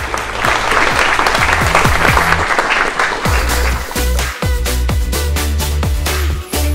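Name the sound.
audience applause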